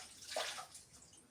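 Water drips and splashes from the ceiling of a cave in Malungon where stalagmites form, with one distinct drop over a soft, hollow wash of water.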